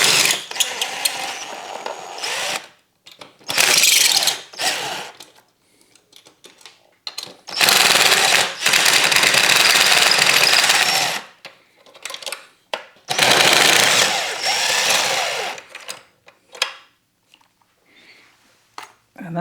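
A ratchet fitted with a 5mm Allen bit backs out fender bolts on a Kawasaki ZX-4R, loud bursts of rapid clicking ratcheting separated by short pauses, close to the microphone.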